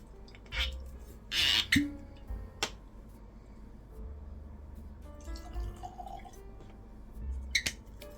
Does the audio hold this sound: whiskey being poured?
yes